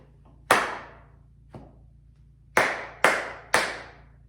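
Hands clap out a simple rhythm: one sharp clap, a pause with a faint soft clap, then three evenly spaced crisp claps, close and alone over a low steady hum.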